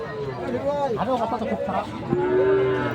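A young Sahiwal bull calf lets out a long, loud moo close by, over the murmur of voices at a busy cattle market in Setabganj.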